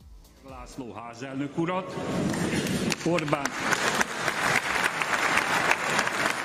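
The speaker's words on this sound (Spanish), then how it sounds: "Son los aplausos esos que están viendo en el Parlamento húngaro" Members of the Hungarian Parliament applaud in the chamber; voices are heard first, then a loud, sustained wash of many hands clapping builds and continues to the end.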